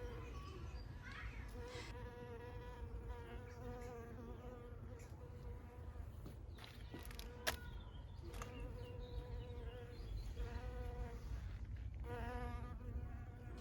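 Bees buzz steadily all around beside a garden polytunnel, several close passes rising and fading over a quiet outdoor background, with a sharp click partway through.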